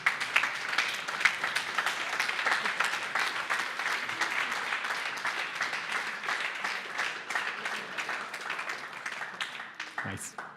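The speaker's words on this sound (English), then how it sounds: "Maybe the speakers can stand up and give a warm applause to the audience." A conference audience applauds continuously for about ten seconds, a dense, even wash of clapping that fades out at the end.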